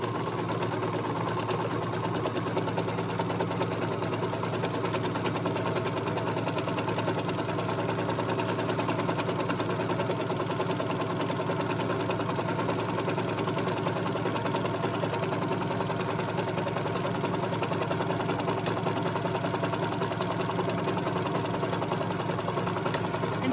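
A serger overlock sewing machine stitches a rolled edge on jersey knit fabric, running as a continuous, even, rapid mechanical whir and clatter, close up and uninterrupted, with no talking.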